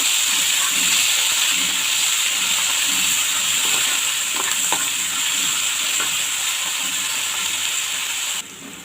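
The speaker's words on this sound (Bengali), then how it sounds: "দারচিনি এলাচ আর পেঁয়াজ বাটা পেঁয়াজটা ভেজে নেব" Onion paste frying in oil with cinnamon and cardamom, a steady close sizzle and hiss with occasional stirring scrapes, easing slightly just before the end.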